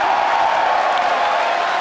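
A crowd at a SpaceX CRS-8 launch roars with cheering and applause at the Falcon re-entry burn, a steady, dense wash of noise that holds for a couple of seconds.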